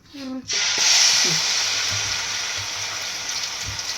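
Hot cooking oil in a pan bursts into a loud hiss and sizzle after a brief voice, then settles into a steady frying crackle that slowly fades.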